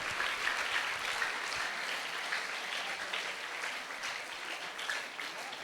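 An audience at a school's Krishna Jayanthi celebration claps for students' drama performance, giving steady, dense applause that stays loud and even throughout with no voices over it.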